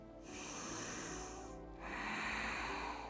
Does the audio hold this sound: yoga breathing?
yes